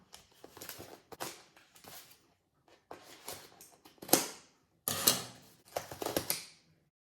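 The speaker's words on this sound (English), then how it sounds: "my yarn arrived from Germany, so I'm gonna open it up now" A mailed package of yarn from Germany being cut open and unwrapped by hand: close, crinkly bursts of tearing, scraping and rustling packaging in uneven spurts with short pauses, no talking.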